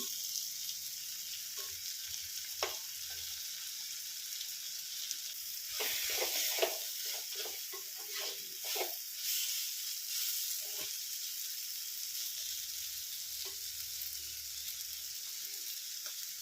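Grated coconut roasts in a pan for a clam (kakka) roast, a soft, steady sizzle with scraping stirring strokes clustered in the middle, fairly faint and without voices.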